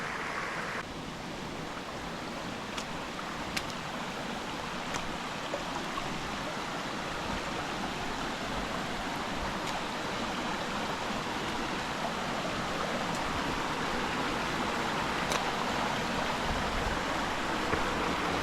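Steady rushing of a rain-swollen creek flowing over rocks on the West Prong Trail, a continuous broadband wash heard up close with no voices.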